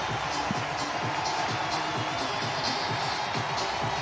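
Football crowd at a Chelsea versus Wrexham match roaring after an equaliser goal, a dense steady wash of cheering from a large stadium audience with a commentator talking over it.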